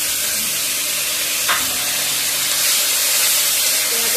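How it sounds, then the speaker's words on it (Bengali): Onions fry in a hot pan with a dense, steady sizzle, loud and close, broken by one brief clink partway through and no talking. "প্রথমে পেঁয়াজটা একটু ভালোভাবে ভেজে নেব।"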